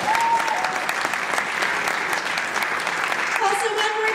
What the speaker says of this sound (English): Let's give another round of applause for Taylor and Erica